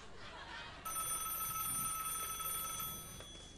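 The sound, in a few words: telephone ringing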